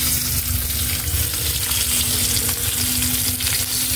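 Food sizzles and crackles steadily in a hot pan, a dense continuous frying hiss with a low hum underneath and no voices.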